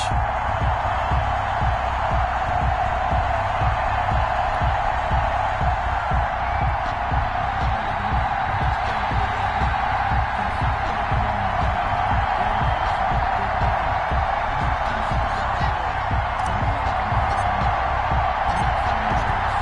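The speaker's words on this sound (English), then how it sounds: "This crowd is ready as their guys get set to match up" Stadium crowd in the football video game Madden 21 before a Tampa Bay Buccaneers versus Carolina Panthers matchup in Charlotte, a steady, dense roar of cheering that holds at an even level the whole time, with no distinct talk.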